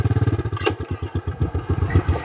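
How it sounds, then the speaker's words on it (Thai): A loud motorcycle exhaust close by, chugging in a rapid, steady pulsing rhythm of low throbs as the engine runs, with a brief metallic clatter near the start and no talking. "เสียงท่อดังแท้"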